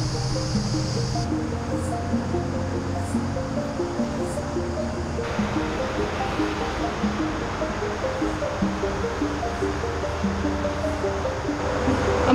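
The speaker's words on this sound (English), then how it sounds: "you got the road noise all the time" Constant highway traffic roars without a break near a walking track, a broad steady rumble like surf with no voices.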